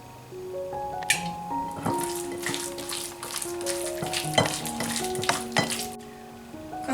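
Chicken slices coated in cornstarch sizzle in olive oil in a pan for sweet and sour chicken with pineapple, a steady crackling fry with scattered sharper pops and clinks throughout.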